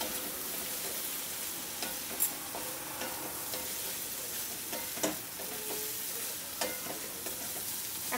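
Egg and spring onions fry in a pan while a utensil stirs them, giving a soft continuous sizzle punctuated by scraping and light clicks against the pan, with no voices.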